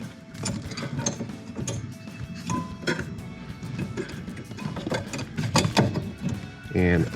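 A 7/16 wrench tightening the fuel line on a camper refrigerator gives repeated metallic ratcheting clicks and clinks in uneven bursts, close up, with a voice talking over parts of it.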